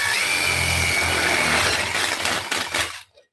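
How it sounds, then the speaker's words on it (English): Power drill boring a hole through the bottom of an emptied metal stove fuel canister, a loud steady close-up whine for about three seconds that wavers and cuts off abruptly, with no talking. "all you do is you drill a hole in the bottom"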